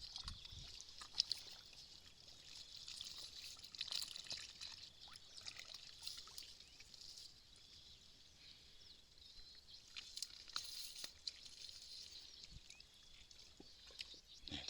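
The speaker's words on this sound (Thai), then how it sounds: "น้ำไหลออกมา อย่างนี้ ใช่ไหมครับ" Water trickling and pouring out of a hole being dug for eels in the dry season, a steady faint outdoor flow with light splashing and scraping, no voices.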